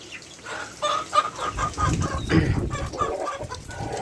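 Country hens on a native chicken farm cluck repeatedly and close by, with overlapping calls and rustling, and no talk.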